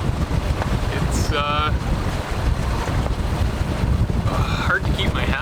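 Strong gusting wind buffets the microphone aboard a boat off the British Columbia coast, a loud, continuous roar with water noise beneath, while people speak briefly over it.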